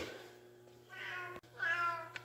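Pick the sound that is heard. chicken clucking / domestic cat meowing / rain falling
domestic cat meowing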